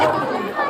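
A crowd mills about at a busy tribal fair with wooden stalls selling goods, a steady close murmur of many overlapping voices.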